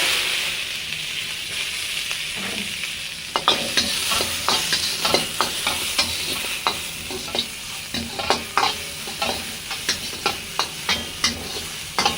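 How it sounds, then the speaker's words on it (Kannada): Half an onion fries in hot oil for a fish curry masala, a close sizzling hiss under a rapid series of sharp spatula scrapes and taps against the pan, with no talking. "ಫಸ್ಟಿಗೆ ಸ್ವಲ್ಪ ಒಂದು ಅರ್ಧ ಹೋಳು ಈರುಳ್ಳಿ, ಎಣ್ಣೆ ಸ್ವಲ್ಪ ಕಾದಿರಲಿ."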